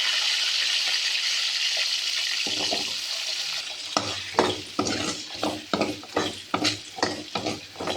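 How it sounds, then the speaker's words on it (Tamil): Mustard seeds, curry leaves, fenugreek, garlic and shallots fry in hot oil for a Tamil kuzhambu, a steady loud sizzle at first, then sharp stirring scrapes and spattering pops in an irregular rhythm, close by with no talking. "எண்ணெய் சூடாயிடுச்சு, கடுகு போட்டுக்கலாம், கருவேப்பிலை போட்டுக்கலாம், வெந்தயம், அடுத்து பூண்டு, சின்ன வெங்காயம்."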